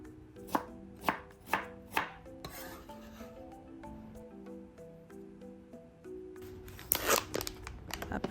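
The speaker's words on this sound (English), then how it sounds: "Organize the slice on the same line, so you can easily cut this into strips." A knife cuts sliced chayote into strips on a cutting board with several distinct, evenly spaced chops, then lighter scraping and a final quick flurry of cuts, close and quiet.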